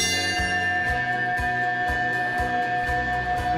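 A bell awarded for a 1947 Brier curling championship rings at a curling club with rapid, repeated strikes over a sustained metallic tone, loud and close.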